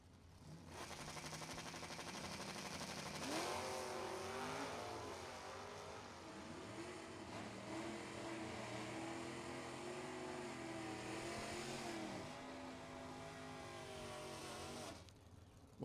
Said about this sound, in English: Galmino, left lane, F, stock automatic Mustang, down 1102. Going to take on Darrow, B, stick, 94 Camaro